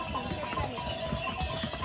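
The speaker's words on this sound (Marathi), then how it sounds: "आ रहे घोडे" Rapid clip-clop of several horses' hooves patters continuously over a busy background on the Kedarnath walking route, with faint voices mixed in.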